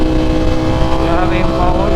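A Ducati Streetfighter hyper naked motorcycle engine revs hard under acceleration, a loud, continuous, close roar with rising pitch and wind rush.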